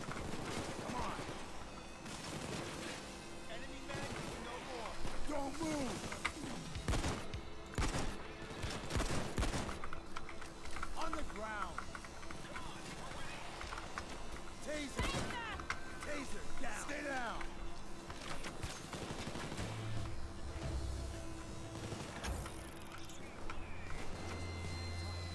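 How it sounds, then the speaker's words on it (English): Repeated shotgun blasts in Payday 2 during a robbery, loud sharp bursts scattered through a busy stretch of gameplay with footsteps and mechanical clatter, voices talking over it at times. "My shotguns are doing more damage."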